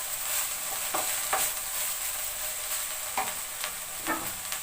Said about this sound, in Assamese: এতিয়া মই ঢেকীয়াখিনি ভালদৰে লৰাই আছোঁ যাতে তলত লাগি নাযায়।